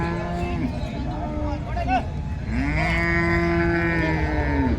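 At a cattle market in Karunkalpalayam, Erode, where jersey cows are sold, cows give two long, close moos. The second moo is drawn out, and market noise continues underneath.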